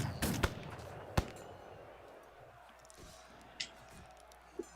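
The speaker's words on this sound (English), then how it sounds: "The response is scattered gunshots that kill one of your crew." Scattered gunshot sound effects during a live play of the Forgotten Waters pirate board game, a few sharp cracks early then fainter isolated pops over a low background murmur.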